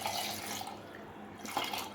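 Water poured into a blender jar of falsa berries with black salt for falsa juice, a quiet, steady wash of liquid lasting about two seconds with no talking.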